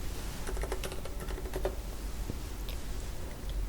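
Rapid keystrokes on a computer keyboard enter a colour code in Photoshop, a quick run of close, crisp taps followed by a few scattered presses.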